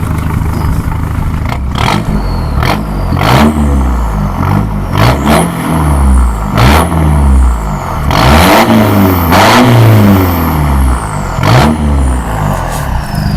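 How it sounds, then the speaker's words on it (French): Audi A3 stage 2 diesel engine revving in repeated bursts, each blip rising and falling over a steady idle, loud and close with some mechanical clatter, no talking. "Vas-y fais-la enronner un peu."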